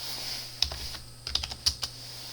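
Someone types on a computer keyboard while entering a formula in a spreadsheet, giving a handful of quiet, irregular key clicks over a faint background hum.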